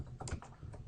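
Quick burst of typing on a computer keyboard while entering a router IP address, a few close, soft key clicks over faint background noise.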